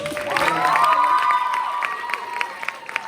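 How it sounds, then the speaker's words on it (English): Applause and cheering at a 2019 high school fall sports awards ceremony, a burst of crowd shouts and whoops over clapping that swells early, then thins into scattered claps and calls. "let's give them one more round of applause"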